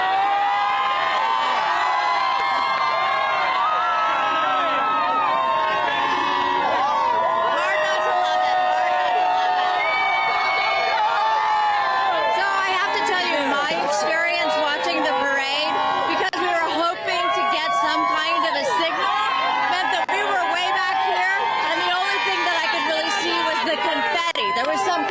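A crowd of Dodgers fans cheering and chattering, a steady loud babble of many voices with shouts rising out of it, while a voice speaks over the noise.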